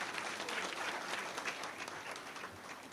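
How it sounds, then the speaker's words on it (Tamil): An audience at a Tamil political event applauds with sustained, dense clapping that holds steady throughout, heard from some distance. "நல்லா கைத்தட்டல் தாங்க."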